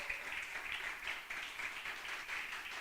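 A church congregation applauds during a sermon, giving a steady, soft wash of many hands clapping at a distance that carries on without a break.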